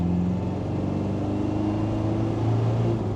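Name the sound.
Land Rover Defender 300 Tdi accelerating at full throttle, turbo spooling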